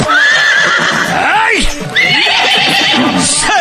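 A horse whinnies loudly and repeatedly in quick, wavering neighs, close and dominant, with some hoof clip-clop and sung voices mixed underneath.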